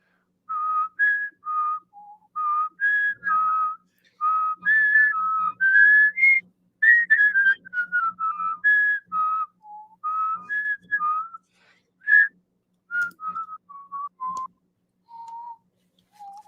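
Several people whistle a melodic tune together in short phrased bursts with brief pauses, clear and close, with no talking.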